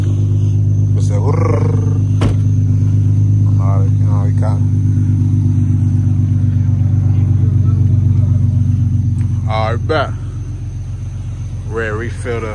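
An Infiniti G37 engine idles just after starting, a loud, steady, close low rumble with a faint whine on top. People talk over it throughout.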